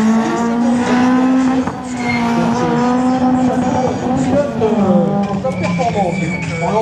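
A Citroën Saxo races hard through a slalom course, its engine holding a loud, strained note that rises and falls through the runs under excited commentary.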